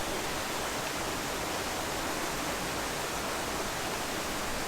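A waterfall in North Wales roars as a steady, dense wash of rushing water, constant and even throughout with no other sounds.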